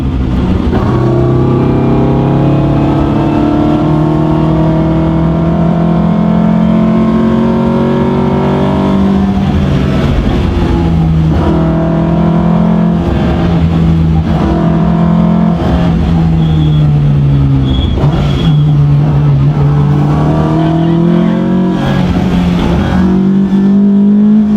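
Alfa Romeo Giulia Ti Super's 2.1 litre long-stroke twin spark engine revs loudly and up close, its rough, throbbing note climbing and falling repeatedly across a sustained run with no voices over it.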